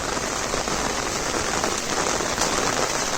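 Heavy monsoon rain pours down in Konkan, a dense, steady roar of drops drumming on surfaces, loud and unbroken from start to finish.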